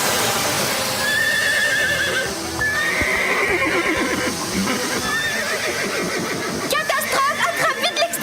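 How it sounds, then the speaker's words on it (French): Panicked horses in a western film whinny repeatedly and loudly while hooves clatter, and the frantic neighs pile up toward the end. "Calmez les chevaux!"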